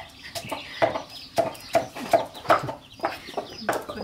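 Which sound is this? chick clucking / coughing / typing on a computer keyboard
chick clucking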